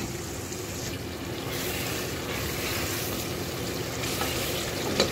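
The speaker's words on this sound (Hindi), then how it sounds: "हम इसमें फिश डाल के भूनते हैं" Fish frying in masala in a pan, a dense, even, close sizzle and crackle holding steady throughout, with no voices.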